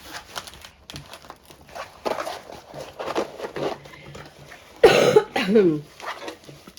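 Someone coughs several times in a row, close and loud, with short breaks between bursts and a final heavy, raspy cough, amid light rustling of packaging.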